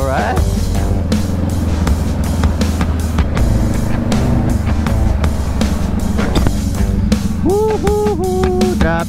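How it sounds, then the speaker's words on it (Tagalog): Road traffic and engine noise surround a rider on a Honda Rebel 500 motorcycle, a loud continuous roar with passing vehicles while someone talks over it. "Traffic"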